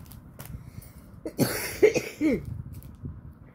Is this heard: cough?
yes